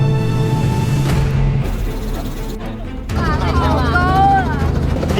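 Helicopter flying loops around the tall Mazu statue in Tianjin's Binhai New Area, a loud, constant rotor and engine roar heard from inside the cabin, with people talking over it.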